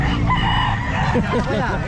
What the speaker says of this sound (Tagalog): ito mga manok niya oh